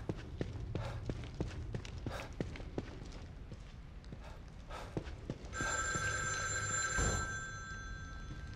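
A telephone rings in the horror game The Evil Within 2, a steady multi-tone ring entering partway through over earlier rhythmic footsteps and faint ambient noise.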